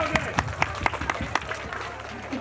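Audience applause at a Mother's Day celebration with dance and games by moms and kids, a burst of fairly quiet clapping with a few sharper claps standing out over crowd noise.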